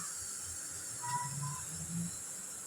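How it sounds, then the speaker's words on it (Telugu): A pressure cooker of toor dal with gongura leaves releases steam after its whistle, a faint steady hiss carrying a couple of soft tonal squeals. "కొంచెం విజిల్ అంతా వెళ్ళిపోయే వరకు దాన్ని వదిలేద్దాం."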